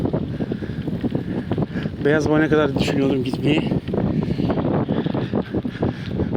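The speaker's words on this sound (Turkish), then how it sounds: "Rüzgar şu anda yüzüme yüzüme çarpıyor arkadaşlar" Wind buffets the microphone in heavy, rumbling gusts while a person talks over it outdoors on the streets of Şarköy, Turkey, in November.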